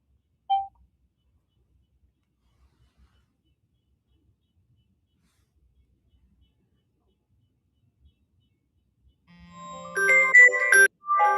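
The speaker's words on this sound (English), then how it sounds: "Everything is ringing at the same time." Telephone lines on a call-in radio show ring out together in a cluttered burst of electronic tones near the end, after a single short beep at the start and long near-silence.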